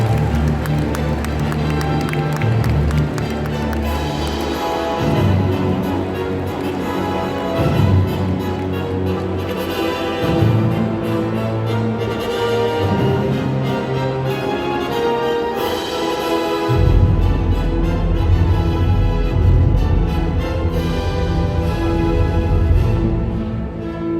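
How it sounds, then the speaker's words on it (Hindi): Audience at the opening ceremony of the 53rd International Film Festival of India in Goa applauding, a dense sustained wash of crowd clapping and cheering over music, loud and continuous throughout. "जोरदार तालियां हो जाएं।"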